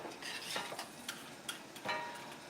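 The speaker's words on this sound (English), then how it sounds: "I am going to grab a whisk and whisk this up just a little bit." A whisk stirs beef stroganoff in a hammered Wagner pan, with quiet, irregular metallic clinks and scrapes against the pan over a soft sizzle, close and faint.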